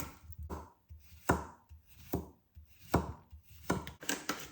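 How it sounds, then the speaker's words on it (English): A knife chops cucumber on a cutting board in a home kitchen, giving sharp, irregularly spaced knocks, about eight distinct strikes, close and clear with no talking. "I'm just going to chop a little bit of like the extra inside filling, and I thought I would go for some cucumber"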